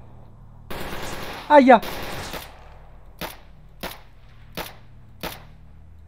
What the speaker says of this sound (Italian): Due militari che sparano da sinistra.